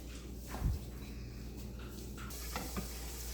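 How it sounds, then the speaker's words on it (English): Onions and garlic sizzle in a frying pan on the stove, a steady close hiss with a brief clatter of utensils near the start. "I'm going to start cooking the onions and the garlic in the pan"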